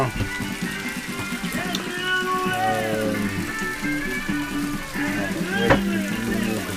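Small onions and garlic fry in olive oil, a steady crackling sizzle on a boat galley during a solo transatlantic sail, under ongoing talk and a few clinks.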